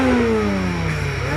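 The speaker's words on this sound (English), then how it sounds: "Mazda BT-50. See that? 3-liter turbo diesel." A Mazda BT-50 pickup with a 3-liter turbo diesel engine revs steadily and loudly up close, holding a continuous droning tone that sags slightly in pitch.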